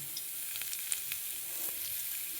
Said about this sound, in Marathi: आता आपण जिरे टाकूया.